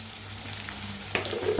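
Onion and curry leaves fry in oil with a steady, close crackling sizzle, and a brief sharper spatter burst comes near the end, with no one talking.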